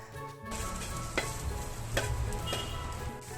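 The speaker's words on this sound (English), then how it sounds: "Dry roast the onion as well." Sliced onion with coconut dry roasting in a pan for Goan crab xeq xeq, with soft stirring scrapes and faint crackle, steady and close with a couple of sharper spoon knocks, no talking.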